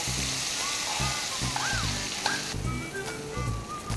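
Leftover stuffing batter for Bharli Vangi, a stuffed brinjal dish, goes into hot mustard oil and gives a steady, hissing sizzle throughout, with faint tonal sounds over it.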